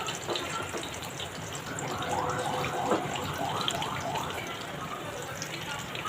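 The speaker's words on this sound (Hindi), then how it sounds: "तो अब हम इसको इस तरह से फ्राई कर लेंगे" Potato chapli kababs fry in a pan with a steady, dense hiss of hot oil throughout, and a faint voice murmurs in the background.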